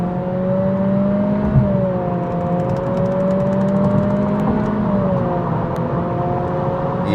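A 2026 Acura Integra A-Spec Tech pulls up to highway speed, its engine droning steadily with a rising then settling whine under road and wind noise, heard from inside the cabin without talk.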